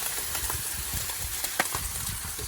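Water bubbles and sizzles on the hot engine of a 1979 Ford, a steady close crackling boil with small popping bursts and no voices.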